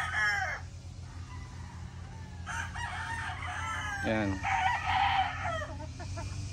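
Gray-breed broody hens on a farm cluck and a rooster crows repeatedly nearby, with someone briefly speaking among the calls.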